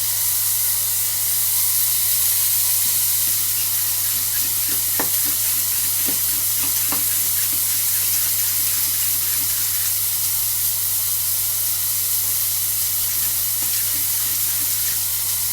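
Scrambled egg with cream and butter, seasoned with salt and white pepper, cooking in a pan on a small stove in a truck cab, a steady soft sizzle with faint stirring scrapes over a constant low hum.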